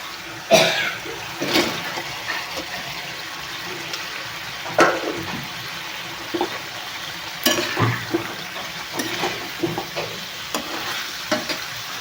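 Fried paneer going into a simmering curry, with a soft sizzling bubble underneath and a run of sharp clacks and stirring scrapes from a utensil against the pan, spaced irregularly.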